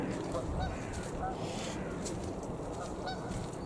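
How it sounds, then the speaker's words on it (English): Several geese honking at a distance, scattered calls over a steady wash of outdoor noise. "the geese have got like an ugly honk and that's all they seem to do"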